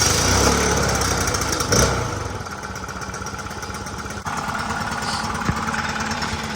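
A 4-stroke leaf blower engine runs at a steady, fairly loud idle, with a raspy mid-pitched drone that shifts slightly in tone partway through and has no voices over it.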